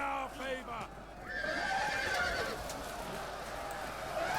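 Horses neighing amid a Rise of Mordor Total War battle, a few high whinnies at the start giving way to a steady din of clashing troops and battle noise, with a voice speaking over it.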